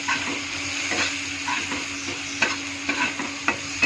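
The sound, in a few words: stirring sugar and turmeric in a frying pan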